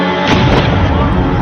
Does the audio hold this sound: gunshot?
yes